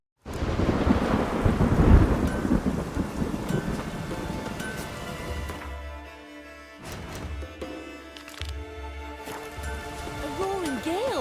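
Heavy rain and rolling thunder in The Witcher game during a roaring gale at sea near the Isles, a loud crack and rumble at first, then a steady downpour with lower rumbles beneath.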